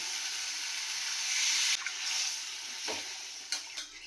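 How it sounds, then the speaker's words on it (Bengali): Water is poured into frying spice masala for katla fish kalia in a pan, giving a steady, fairly quiet hiss and sizzle with a few soft clinks and stirring knocks. "মশলাটার সাথে ভেজে কষিয়ে দিলাম, আমি জল দিয়ে দিচ্ছি"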